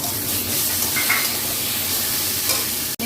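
Chopped onions and tomato sizzle steadily in a hot pan of oil, a dense, even hiss that is close and constant, with a faint stir or clatter near the end.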